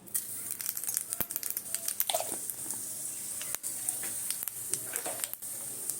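Panch phoron seed spices crackle and pop in hot oil while greens are being cooked, a steady near sizzle broken by sharp irregular snaps and crackles throughout, with no talking.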